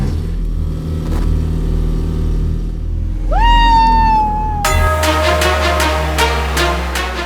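India's AI car runs noisily during a test drive, a steady low engine drone giving way to a rising mechanical whine and then a loud, sustained tonal hum with rhythmic pulsing.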